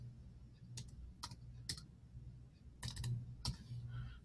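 Keys on a computer keyboard are tapped to enter a six-digit code, heard as a few quiet, close clicks in two short bursts with a pause between, over a low background hum.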